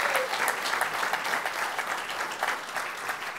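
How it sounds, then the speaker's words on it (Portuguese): A church congregation applauds steadily and fairly loudly, a dense wash of clapping hands that continues throughout without a break. "Vai aplaudir, aplauda forte, que é para ele."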